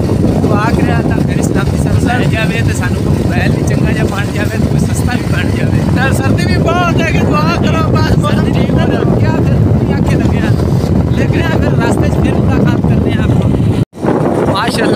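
A motorcycle rides slowly in a Pakistani village against strong wind, the engine's low drone buried under loud, blustery wind buffeting the microphone throughout, with a brief dropout near the end.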